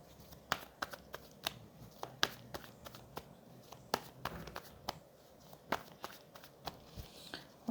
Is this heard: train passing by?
no